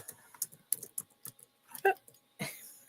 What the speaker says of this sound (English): I'm typing in sold.